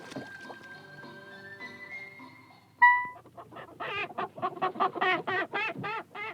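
A burst of rapid, repeated clucking from fowl, rising in pace and fairly close, following a stretch of soft tonal background sound.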